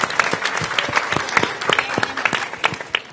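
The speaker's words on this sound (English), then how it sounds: "Please give him a round of applause." A crowd at the 'Let's Read! Let's Move!' event with Mayor Bowser applauds Veterans Affairs Secretary McDonald, a steady, fairly close wash of many hands clapping without a break for a few seconds.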